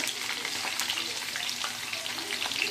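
Masala-coated ivy gourd (kovaikkai) frying in hot oil, giving a steady dense sizzle with faint crackles and stirring, close and continuous with no talk.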